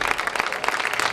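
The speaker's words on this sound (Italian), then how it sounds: "facciamo un applauso" A brief burst of audience applause at a cultural event at the Torre del Lago Pride Village: many hands clapping densely and evenly, close and lively for about a second.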